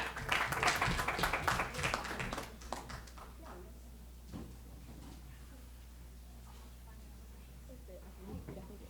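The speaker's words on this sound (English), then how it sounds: "this motion passes unanimously. Feel free to clap." Council meeting attendees clap in a brief, fairly loud burst after a unanimous vote, dying out within about two seconds and leaving a quiet room with a few scattered taps and faint background noise.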